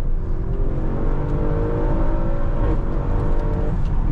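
A 2016 Audi RS6 C7 Performance rated at 605 hp accelerates hard on an open road, its engine holding a strong, steady rising roar with a rushing whir of tyres and wind, loud and continuous from inside the car.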